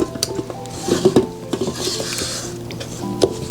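A spatula scrapes and knocks around the sides and bottom of a mixing bowl of mayonnaise cake batter, giving a run of light irregular clinks and scrapes.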